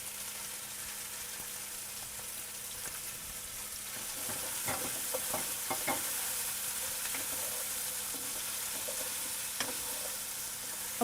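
Carrots, onions and celery sizzle in a hot pan for a minestrone base, a steady soft hiss with intermittent stirring clicks and scrapes, close and unaccompanied by talk.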